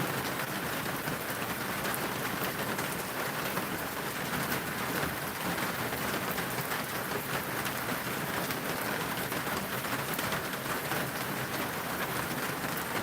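Steady, continuous rain falls outdoors during fish cleaning, a constant broadband patter with no pauses, moderately loud and without voices throughout.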